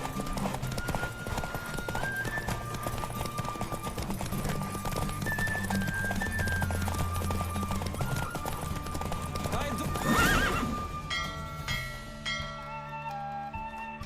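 Rhythmic clip-clop of a galloping horse in The Witcher 3: Wild Hunt over game music, with a whinny and a brief surge near the end.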